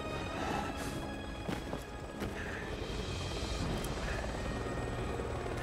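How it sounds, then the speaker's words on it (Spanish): A helicopter's rotor in Resident Evil 6 drones steadily throughout, a dense continuous whir with a few sharp thumps and clacks layered over it. "¿Por qué apuntas el helicóptero si no tienes visión de disparo, Leo?"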